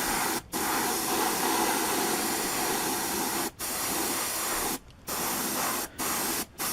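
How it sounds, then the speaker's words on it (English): Loud hissing bursts from a spray can laying a metallic grey base coat onto parts of a Tamiya 1/12 scale Yamaha YZR M1 '09 model, including its pipes, in long sprays broken by five brief pauses. "I'm going to give it a base coat of metallic grey first."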